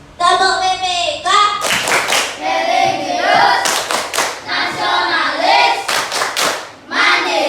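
Primary schoolchildren in an Indonesian classroom perform a rhythmic tepuk clapping chant, loud sharp hand claps punctuating group chanting in bursts throughout.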